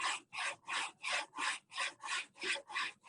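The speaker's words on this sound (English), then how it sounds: "Again, I move the piece around on the diamond plate just because even diamonds wear out." A steel blade is rubbed back and forth on a diamond sharpening plate in about nine even, rasping strokes, close and alone with no voices.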